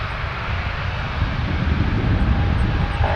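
An Air Canada airliner's jet engines roar steadily during takeoff at Toronto Pearson, a broad, sustained rumble that swells slightly louder toward the end, with no one talking.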